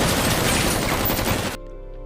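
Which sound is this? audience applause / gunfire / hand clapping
gunfire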